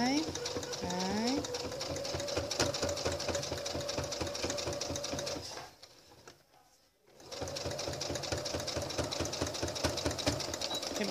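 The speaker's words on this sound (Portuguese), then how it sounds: "começa a costurar. Rebate a costura" A sewing machine stitches a seam on a thermal lunch bag in a steady rapid clatter, pausing briefly before resuming, while someone talks over it.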